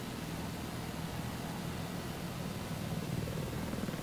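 Attack helicopter in Battlefield 4 whirring as a steady, dense rotor and engine drone, continuous and fairly loud throughout with a low rhythmic throb.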